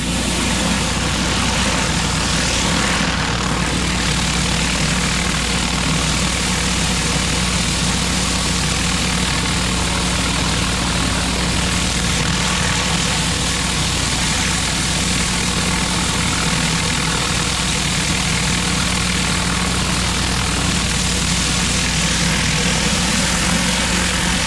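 A pressure washer engine runs steadily while rinsing concrete, a constant loud drone of motor and spray throughout with no breaks.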